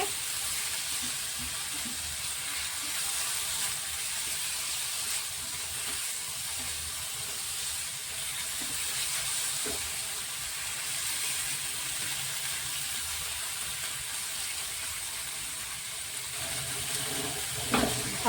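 Milk simmering and reducing with carrots in a pan for carrot halwa and laddu, giving a steady close hiss and sizzle with faint scraping from stirring, no talk.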